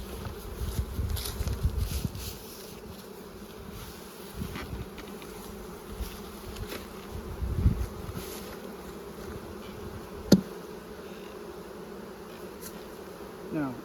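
Honey bees buzz steadily around a two-sided hive with no brood on one side, a continuous close drone with individual bees swelling louder as they fly past.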